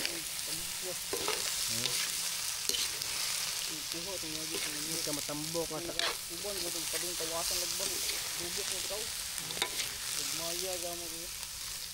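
Freshwater shrimp sautéing in a pan give a continuous bright sizzle with occasional stirring clatter, heard beneath ongoing talking.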